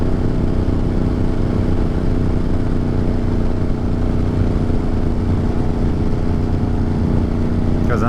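A motorcycle engine drones steadily while riding on warm, twisty roads, with a constant loud hum and wind rush throughout.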